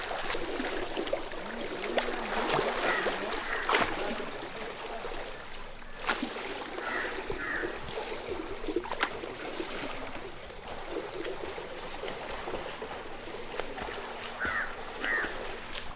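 Water splashing from a breaststroke kick in a swimming pool, a continuous churning wash with intermittent splashes, moderately loud and without voices.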